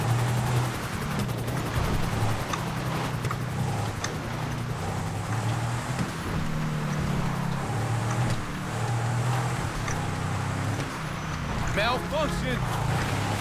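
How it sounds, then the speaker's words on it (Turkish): A helicopter flies in GTA V, its rotor thrum steady throughout under a game mix of engine noise and scattered gunfire, while a player talks over it. "Biz karadan, helikopter yukarıdan"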